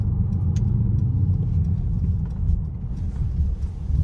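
Interior of a 2020 Mercedes GLC43 AMG driving over a road bump: a steady low road and engine rumble with a soft, barely marked thump, muffled and continuous, with no talk.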